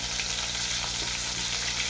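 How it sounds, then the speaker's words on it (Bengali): Chopped onions fry in a pan for a katla fish mustard-poppy curry, giving off a steady, even sizzle with faint crackles and no talking. "পেঁয়াজগুলো আমি ভেজে নেবো লালচে লালচে করে"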